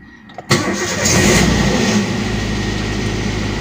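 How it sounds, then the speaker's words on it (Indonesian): A car engine cranks and catches after the weak battery has been recharged, starting with a sudden loud burst and then settling into a steady, close idle rumble. "akhirnya sudah kuat untuk menstarter mobil lagi ya setelah kita melakukan penyetruman atau pengecasan"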